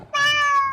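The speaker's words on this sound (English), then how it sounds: "Your cat on your head again?" A cat lets out a single clear, drawn-out meow, close and fairly loud, rising quickly and then tapering off.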